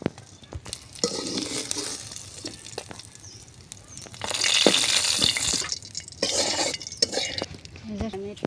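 Small puti fish frying in oil in a home kitchen, with soft sizzling under repeated scraping and stirring of a utensil against the pan, close and moderately loud.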